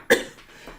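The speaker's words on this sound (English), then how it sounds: "Oh, I'm gonna cough." A single sharp cough from a person during a live event, close and loud, followed by a faint breath.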